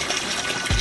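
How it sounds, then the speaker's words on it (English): Wastewater pours steadily from a pond waste line at about 260 gallons an hour, a loud continuous gush heard close up. "And the water is now coming out at a rate of"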